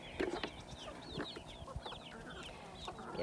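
Chickens clucking in a farmyard shared with goats, several short close clucks and calls repeating over quiet background.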